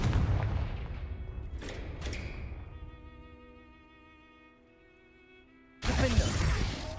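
Fire-spell explosions in a video game: a loud burst followed by two sharp blasts, then a ringing, fading tonal decay into near silence before another loud eruption hits.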